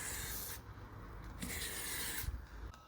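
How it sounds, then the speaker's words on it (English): Lubricant sprayed in short hissing bursts along the track of a Mountain Top pickup-truck roll cover, with a few separate close sprays of varying length and faint handling noises between them. "Come across to the other side and again pop it in,"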